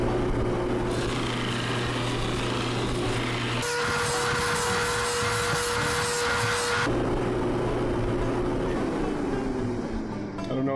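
A Grizzly drum flap sander runs with worn 100 grit paper against contoured wooden legs, giving a loud continuous motor whine, with a harsher, brighter grinding stretch in the middle as the wood is pressed in.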